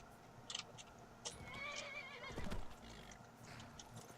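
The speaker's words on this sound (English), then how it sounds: "if I could remember how to get off my horse" A horse whinnies in the video game Skyrim, a wavering drawn-out neigh with a few hoof clops and small clicks around it, faint and alone.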